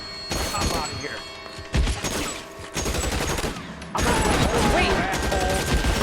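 Video game gunfire comes in loud rapid bursts and single thumping shots, with close voices talking over the shooting.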